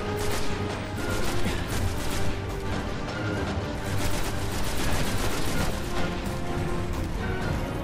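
Enemy gunfire pours down in a constant, heavy Destiny firefight, a dense barrage of overlapping shots and impacts that stays loud and unbroken from start to finish.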